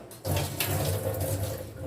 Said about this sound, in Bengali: 3 মিনিট হয়ে গেছে, জলটা আমি এখন ড্রেন করে নেবো